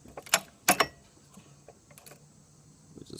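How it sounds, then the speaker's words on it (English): A 1937 Maytag 92 engine's flywheel turned by hand against the compression stroke, giving a few sharp mechanical clicks and clunks followed by faint ticking, close and quiet. "So I'll rotate the flywheel again up against the compression stroke."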